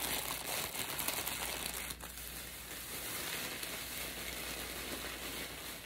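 Plastic bag crinkles softly and continuously as items are packed back into it, a faint rustling close by with no speech.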